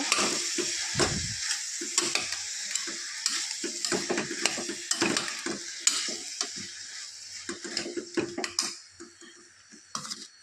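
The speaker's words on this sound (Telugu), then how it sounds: "కల్లుప్పు వేసి కలపాలి, లేకపోతే వంకాయ ముక్కలు కండ్ర కింద వచ్చేస్తుంది అన్నమాట." Eggplant pieces sizzle and fry in a pan while being stirred with rock salt, with steady hiss under repeated scraping and clattering strokes of a spoon, close and fairly loud throughout.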